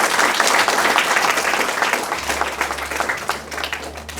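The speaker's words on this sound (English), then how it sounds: "I think you should give them a round of applause." Steady audience applause at a debate competition, a dense wash of many hands clapping at once, holding fairly loud throughout with a low hum underneath.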